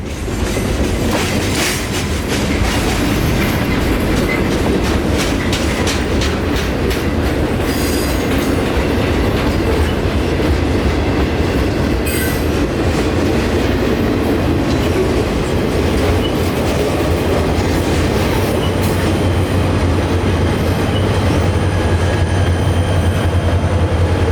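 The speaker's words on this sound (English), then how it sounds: "a local train coming out of Winston Yard with boxcars eastbound for the Park Spur, with one of the hottest GP38s in Florida right now in the consist" A local CSX freight train of boxcars led by a GP38 locomotive rolls past close by, with continuous loud rumble, rhythmic clickety-clack of wheels over rail joints and occasional squeal.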